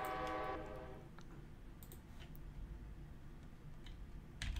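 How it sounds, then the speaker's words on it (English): A train horn sounds loudly in the Transports video game at the start, giving way to the steady rumble and clatter of a fully loaded train rolling along the track, with a second short horn blast at the end. "We've got a train coming down fully loaded"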